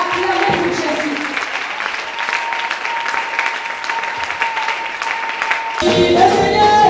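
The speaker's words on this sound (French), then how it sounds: "Lift your hand up on the shoulder and clap for Jesus" A church congregation at a Sunday service claps together for Jesus in sustained, dense applause that holds at an even level. Voices carry over the clapping, which swells louder near the end.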